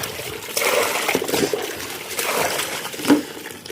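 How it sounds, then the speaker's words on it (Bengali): Tap water running into a bucket at an outdoor washing spot, a steady splashing trickle that holds throughout with a slightly louder gurgle near the end. "চলো বালতিতে জলটা ভরে নিই"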